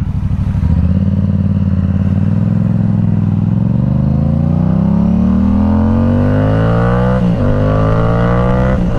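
A Yamaha R7 motorcycle with an aftermarket exhaust revs hard and loud close by. The engine note climbs steadily in pitch, dips briefly near the end, then rises again.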